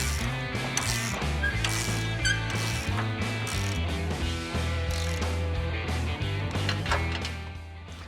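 A ratchet snugs up the suspension bolts on a pickup truck during a lift and level install, giving a steady mechanical clicking close by, with a tonal hum running underneath.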